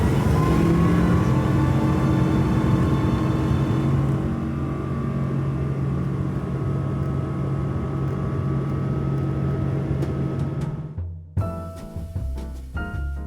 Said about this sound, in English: the amazing roar of the 777-200 engines